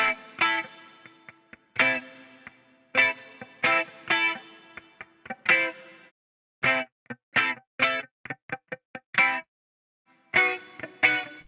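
Choppy electric guitar stabs in short bursts with pauses, each hit trailing off into a smooth, dense plate reverb.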